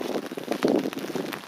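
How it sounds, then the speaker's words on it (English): Rain falling outdoors in Olympic Park, Seoul, a close, steady patter of drops striking a nearby surface with irregular heavier splashes, no voices over it. "I just feel bad because it's raining."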